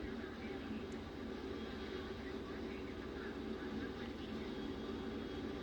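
An F-15E jet in a flight simulator flies low over water, giving a steady, unbroken engine roar that stays at an even loudness throughout.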